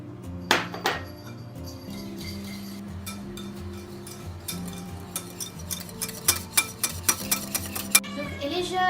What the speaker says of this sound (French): on va ajouter un bol de sucre, on va mélanger et ça doit faire une consistance mousseuse